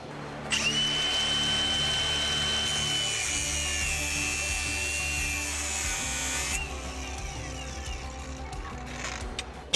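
A high-pitched power tool whines steadily while grinding clean the metal of a 1968 Dodge R/T before welding, a sustained harsh scraping hiss that cuts off after several seconds, leaving lower workshop rumble.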